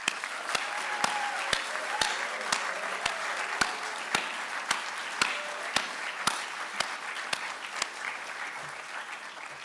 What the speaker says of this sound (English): let's give our graduates today one final round of applause